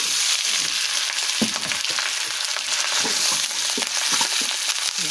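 Cooked rice with lechon meat fries in a hot pan for breakfast fried rice, a dense continuous sizzle broken by scraping and stirring, loud and close with no talking.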